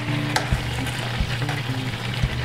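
Chicken pieces browning in a hot skillet give a steady, close sizzle and crackle with occasional soft clinks and stirring sounds, no talking.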